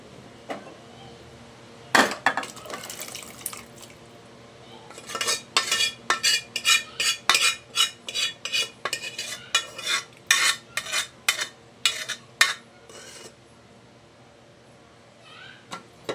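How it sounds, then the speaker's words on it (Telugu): A spoon stirs mutton in a metal pot for pulao: after a single early knock, a long series of close rhythmic clinks and scrapes follows, then fades to quiet. "ఇక్కడ మటన్ని మిక్స్ చేసుకుంటున్నాను"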